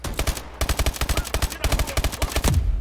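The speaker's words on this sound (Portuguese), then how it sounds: "Estão usando MMGs!" Medium machine gun fire in the shooter game Call of Duty: Advanced Warfare: loud, close bursts of rapid shots in several rattling volleys separated by short gaps, with no speech.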